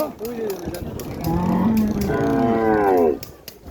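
Cattle moo loudly and close by at a village cattle market, two long drawn-out lowing calls, with faint clatter and distant voices in the background.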